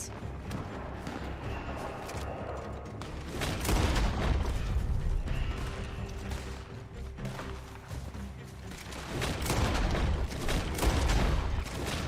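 Gunfire in Red Dead Online, a Western shooter game, with repeated shots and bursts crackling through a continuous busy scene over about twelve seconds, loudest in the middle and near the end.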